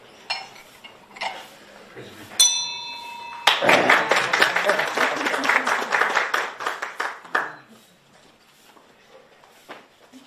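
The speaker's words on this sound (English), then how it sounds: "Another round of applause" Audience applause at a 2020 Rotary Club of Rubaga installation ceremony: a dense, loud burst of clapping that swells, holds for several seconds, then fades, with a short ringing chime just before it and voices around it.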